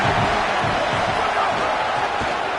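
A home crowd roars steadily in College Football 27, a continuous dense wash of cheering and noise filling the stadium for the whole moment, with faint thuds beneath.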